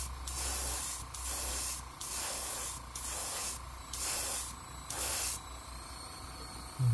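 Airbrush spraying paint onto an MB S Crank fishing lure in a craw pattern, six steady bursts of about half a second each with short pauses between, close and clear over a faint background hum.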